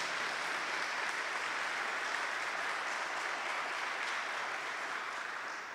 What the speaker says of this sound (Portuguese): Uma salva de palmas para o Papa João Paulo II.